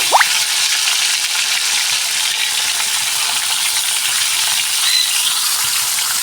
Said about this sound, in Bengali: তো ওই তেলের মধ্যেই আমি মাছগুলোকে ছেড়ে দিলাম। তো মাছগুলোকে আমি ভেজে নেব।